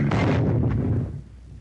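An anti-tank weapon fires at a tank in an infantry weapons demonstration: one loud, close blast that rolls into a rumbling decay lasting about a second, with no voices.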